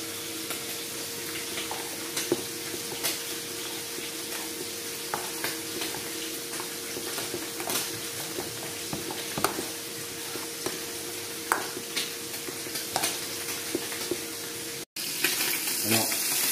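Vegetables frying in a pan give a steady sizzle with scattered stirring scrapes and crackles throughout, close and continuous, briefly cutting out near the end.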